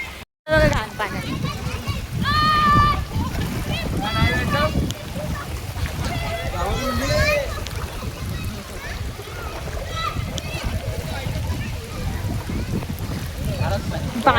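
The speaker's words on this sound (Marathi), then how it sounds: "बघा पाणी फार घरात शिरलं पाणी." Floodwater sloshes and splashes inside a house during a rainstorm, a continuous watery churn under frequent talking from adults and children close by.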